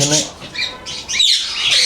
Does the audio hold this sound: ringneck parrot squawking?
yes